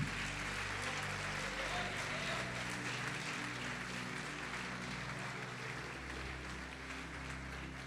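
A church congregation applauding in praise during a Portuguese-language worship service, a steady wash of clapping that runs for several seconds under low music or hum, with no voices standing out.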